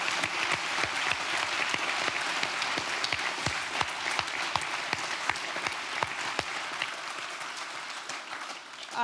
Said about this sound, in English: Please give them a big applause for Renate Loll and Heino Falcke.